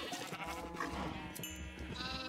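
Sheep bleat in the Minecraft modpack FTB Revelation, a short, close, wavering game bleat standing alone over faint background.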